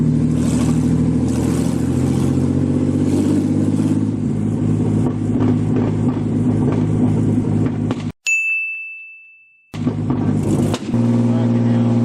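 A rebuilt forged BMW S52 engine in a car accelerating hard, loud and close, with rising harmonic revving that drops abruptly to near silence mid-clip before the engine roars back.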